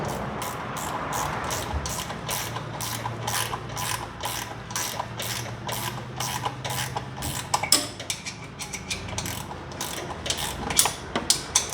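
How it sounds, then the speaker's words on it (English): A ratcheting gear wrench backs a screw out of a Murray MT100 riding mower, a close, rapid series of sharp clicking strokes in uneven bursts across the whole stretch. "Now we're going to get our gear wrench again and go over to this other side."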